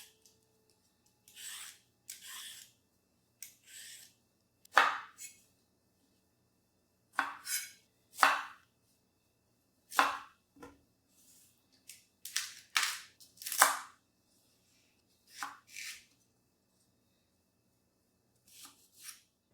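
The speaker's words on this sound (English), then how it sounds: "First, I started by cutting my onion. Then I moved on to garlic." Knife strikes a board while chopping onion, garlic, sweet potato and carrot, coming as irregular sharp cuts in short bursts with pauses between them, fairly close and alone without talk.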